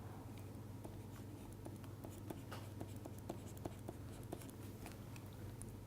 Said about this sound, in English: I am going to write down this partition function in the denominator.